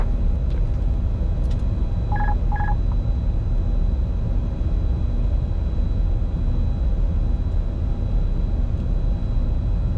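Two quick paired electronic tones sound in a Challenger 605 business jet cockpit, standing out briefly over a loud, steady hum of engine and airflow noise.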